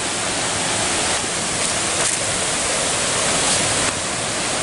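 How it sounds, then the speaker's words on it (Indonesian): Three-tier Baruttung Golla waterfall pouring in a steady, loud, close broadband roar that holds constant throughout, with no voices. "kita sudah sampai di tempat tujuan, yaitu air terjun Barutunggol lah"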